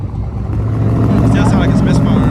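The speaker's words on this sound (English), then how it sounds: "sound like it's misfiring a little bit" A Camaro SS V8 idles close by with a loud, choppy, uneven rumble from a misfire, steady across a brief stretch.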